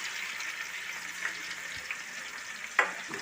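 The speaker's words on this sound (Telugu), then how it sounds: "ఇట్లా వేడెక్కిన తర్వాత ఇది వచ్చేసి ఉల్లిపాయ అండ్ పచ్చిమిర్చి పేస్ట్ అండి" Onion and green chilli paste fries in hot oil for a country chicken curry, giving a continuous close sizzle broken by a few light stirring clinks. No one speaks.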